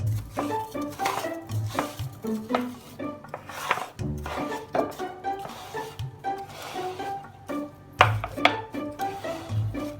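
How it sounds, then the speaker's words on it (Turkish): Pieces of chopped eggplant tumbling into a frying pan with oil, with repeated clatters of a utensil against the pan and light scraping throughout. "Şimdi doğradığımız patlıcanları tavamıza alıp"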